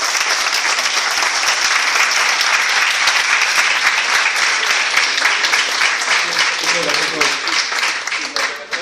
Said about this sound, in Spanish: Les pido un fuerte aplauso para iniciar esta conferencia.